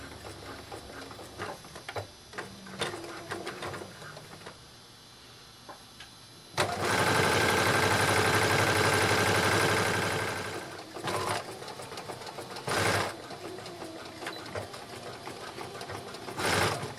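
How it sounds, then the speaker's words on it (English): A sewing machine runs a straight stitch along fabric at a quarter-inch seam, with a loud sustained whirring burst of several seconds followed by shorter runs and quiet handling noises between. "we're going to take them to the sewing machine and we're going to straight stitch all the way along here at 1/4 inch"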